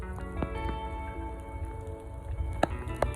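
Steady rain falling on a rainy day in Toronto, Ontario, with a constant soft patter and a few sharper drip sounds nearby.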